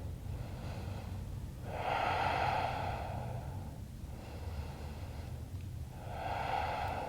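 Slow, steady breathing during a yoga forward fold with the forehead bowed toward the ground, two long audible breaths rising and easing over a low background hum, close and soft with no talking.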